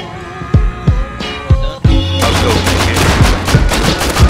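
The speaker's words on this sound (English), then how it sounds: "That was me shooting." Gunfire in the game Rust: several separate sharp gunshots spaced about half a second apart, then a louder, denser stretch of rapid repeated shots over continuous noise, close and forceful.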